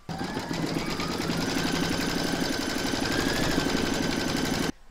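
An embroidery machine stitches in the hoop, securing a stacked pumpkin design, with a loud, close, continuous mechanical hum and quick rhythmic needle pulsing that runs unbroken for nearly five seconds before stopping suddenly.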